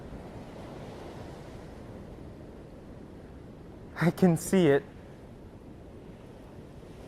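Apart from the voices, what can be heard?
ocean waves crashing against the shore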